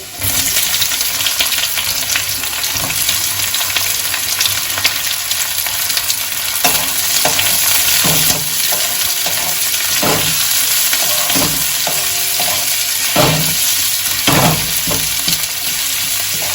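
Chopped onion and garlic fry in a pan for a kalmi greens dish, giving a loud, continuous sizzle with repeated knocks and scrapes of a spatula stirring at irregular intervals, close up and with no voices.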